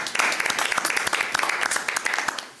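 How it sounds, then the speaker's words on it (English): Audience applause for board members at a public board of trustees session, a steady dense patter of many hands clapping throughout, fairly close and moderately loud. "Let's give them a round of applause"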